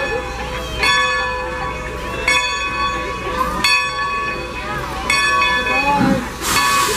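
A steam-style excursion train made up as Thomas the Tank Engine departs at Strasburg Rail Road, its bell clanging in repeated strokes over rolling wheels and a crowd, with people talking nearby.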